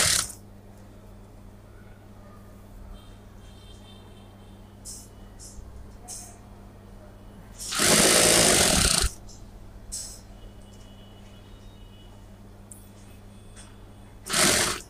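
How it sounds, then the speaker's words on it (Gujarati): A sewing machine stitches salwar fabric in two short bursts, a loud whirring run of about a second and another brief one at the end, with a low steady hum and quiet room noise in between. "હવે આપણે આને સીધી સિલાઈ મારી લેવાની છે."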